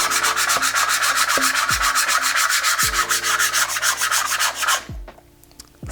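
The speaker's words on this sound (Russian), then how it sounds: "давайте проверим комплектный скребок" A plastic scraper scrapes burnt-on residue off the plate of a DeLonghi CGH1012D contact grill in rapid, even back-and-forth strokes, loud and close, with a few low knocks, stopping abruptly near the end.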